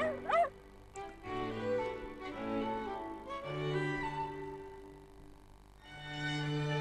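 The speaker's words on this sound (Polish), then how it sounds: "pies" A small dog gives a quick, close yip near the start, then steady held musical tones of a children's animal song continue alone for several seconds.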